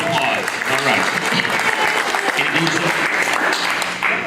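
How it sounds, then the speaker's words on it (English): An audience at a community immigrant week event gives a sustained round of applause, close and steady throughout, with voices mixed in beneath the clapping. "A round of applause"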